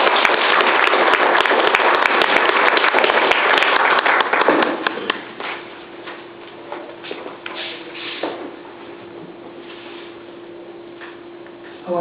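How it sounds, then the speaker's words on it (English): An audience applauds a speaker at an event in Bathurst, New Brunswick, with dense, loud clapping that tapers into scattered claps and quieter room sound after a few seconds. "Ladies and gentlemen, a round of applause for Mr."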